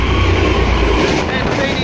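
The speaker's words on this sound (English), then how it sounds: "Express service now passing through." An N class locomotive hauling an express train thunders through South Geelong station, a loud, close, continuous rumble of wheels and carriages rushing past.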